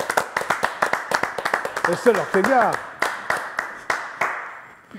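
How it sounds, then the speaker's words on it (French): Brisk clapping from a small live audience, claps coming in a steady rapid rhythm that thins out toward the end, while a voice speaks over the middle of it. "on l'applaudit quand même"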